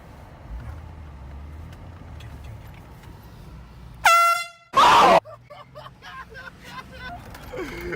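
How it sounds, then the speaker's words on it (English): A handheld air horn gives two loud, piercing blasts, the first longer and the second short, cutting through steady street background noise. "Go buy an air horn. Scare some people."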